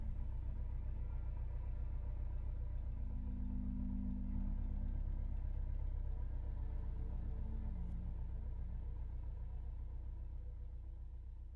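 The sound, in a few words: car engine rumbling while driving at night, from the video game Easel the Monk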